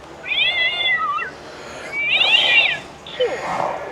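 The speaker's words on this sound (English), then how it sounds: "Oh, the cat's meowing." A Halloween toy cat in a Bunnings store gives three loud, electronic-sounding meows, each about a second long, separated by short pauses over faint store background.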